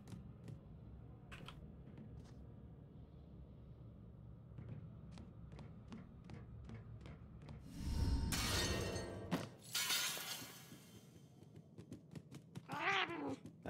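A cat bolting away in fright from a ghost in the video game Murdered: Soul Suspect, with a brief loud scramble and crash midway and a short meow near the end, set over a steady low game ambience.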